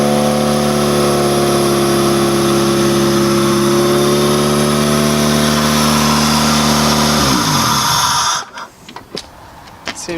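A car engine runs loud and steady after a repair, holding a high rev with strong harmonic drone for about seven seconds before dropping and cutting off, leaving faint clicks and handling noise.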